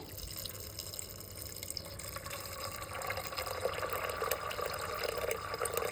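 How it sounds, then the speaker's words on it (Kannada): Water runs and splashes steadily into a pressure cooker, a continuous liquid pour that grows slightly louder and fuller toward the end. "ಅಷ್ಟು ನೀರು ಹಾಕ್ಕೊಳ್ತೇನೆ."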